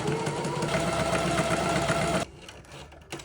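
A sewing machine stitches fabric in a steady, dense mechanical whir that runs loud and close for about two seconds, then stops abruptly, leaving faint room noise and a small click.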